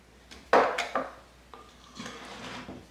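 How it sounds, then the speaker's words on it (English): A spoon folds pie dessert filling in a bowl, giving a few close scraping, knocking strokes against the bowl's sides, spaced unevenly with soft rubbing in between. "fold it in really, really well"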